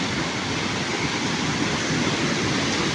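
A waterfall at Yercaud roars as a dense, constant rush of falling water, loud and unbroken from start to finish with no voices.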